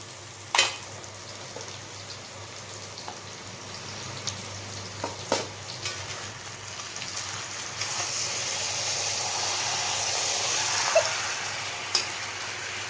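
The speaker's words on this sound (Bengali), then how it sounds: "এখন এর মধ্যে ম্যারিনেট করে রাখা চিকেনগুলো দিয়ে দেবে" Marinated chicken hits softened onions and tomatoes in a hot pan, setting off a steady sizzle and fry, with occasional utensil clinks and stirring scrapes, close and without talk.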